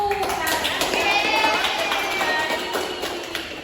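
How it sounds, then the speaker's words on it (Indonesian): A class of fifth-grade schoolchildren claps for their classmates in group 1, a busy patter of hands mixed with children's voices and chatter throughout. "tepuk tangan nih untuk kelompok 1"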